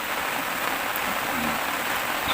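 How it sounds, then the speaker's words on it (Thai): Heavy rain pours down at a reservoir fishing spot, a dense, steady hiss of drops hitting the surface with no breaks or talk. "เนื่องจากฝนตกแรงมากครับ เปียกหมดเลย"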